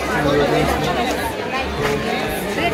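Thick, continuous chatter from a packed Sunday crowd at Pune's Tulsi Bagh market fills the air, with many voices blending into a close, loud hubbub.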